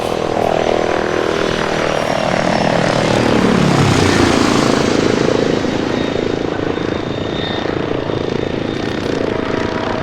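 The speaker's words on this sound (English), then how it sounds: "I called in for helicopter support again because of all the infantry" A support helicopter arrives in the video game Arma 3, a loud rotor and engine roar that swells as it approaches, with a pitch sweep as it passes overhead, then steady whirring.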